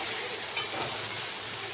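Egg curry masala with coriander leaves sautéing in a pan, a steady close hiss of frying with a single faint clink of a utensil.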